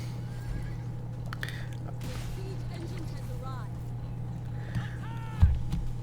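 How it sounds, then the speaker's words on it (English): Ponies in the Paladins video game, with short whinnies and faint clip-clopping hooves over a steady low hum, plus a sharp thump near the end and a voice talking quietly. "we just galloping ponies"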